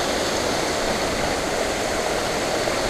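A waterfall roars up close, a loud, steady, unbroken rush of falling water that fills the whole clip without any voices.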